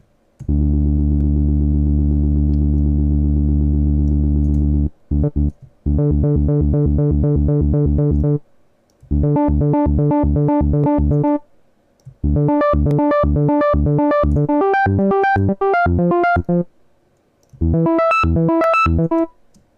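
A sustained synth tone gives way to rapid repeating upward one-octave arpeggiated notes in bursts, loud and electronic, climbing brighter with each phrase.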